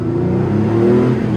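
A car engine fitted with a lightweight flywheel revs hard up close, a loud, continuous growl with shifting tones running throughout.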